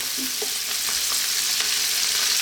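Bacon, garlic, onion and mushrooms sizzle steadily in a frying pan, a loud, continuous hiss broken by a few soft scrapes and stirs, with no one speaking.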